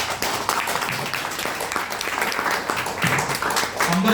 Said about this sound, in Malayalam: ഒന്ന് ജസ്റ്റ് ഒന്ന് ക്ലാപ്പ് ചെയ്യാൻ പറ്റുമോ?